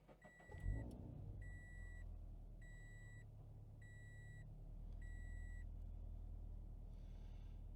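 A Subaru BRZ engine, just after an air oil separator repair, cranks and catches, then settles into a low steady idle while a repeated electronic chime beeps in regular pairs above it.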